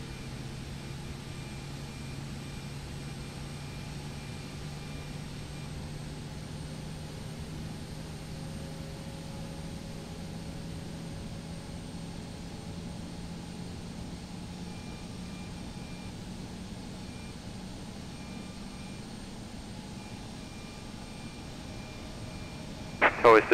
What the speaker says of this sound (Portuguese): A gente quiser ouvir o barulho do motor acionando